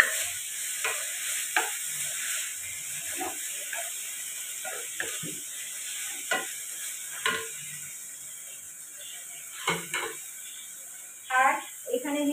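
Ginger, tomato, carrot and beans are stirred in a frying pan, with a steady low sizzle under repeated clinks and scrapes of the spoon, some sharper than others.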